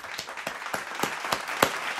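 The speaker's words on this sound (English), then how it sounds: "let's clap it up" A pair of hands claps in a steady, even rhythm of about seven sharp claps over two seconds, close and alone with no talking.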